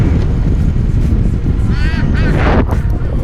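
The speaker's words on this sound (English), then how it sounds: "there was a duck. Literally, it quacked so loud." A duck quacks loudly beside a motorcycle ride, replayed from GoPro footage, with a few nasal honking quacks cutting through heavy wind noise near the end.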